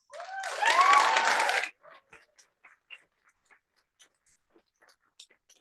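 Audience applause at a county Board of Supervisors special meeting, a dense burst of clapping from a crowd that lasts under two seconds and then stops abruptly, leaving quiet room sounds and scattered faint taps.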